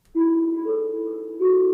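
A kalimba through full overdrive distortion: sustained, heavily distorted tones with a thick, buzzing overdriven edge, two held notes in succession, loud and alone.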